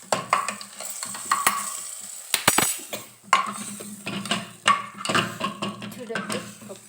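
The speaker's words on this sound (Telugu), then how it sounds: "తిరగబట్ట పెట్టేస్తుందండి పప్పులో" Hot tempering is stirred into cooked dal, giving a crackling sizzle broken by repeated sharp clinks and scrapes of a ladle against the pot, close and fairly loud, with brief speech between.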